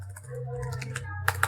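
Light keystrokes on a computer keyboard tap in a quick irregular run, ending with two sharper clicks, over a steady low electrical hum.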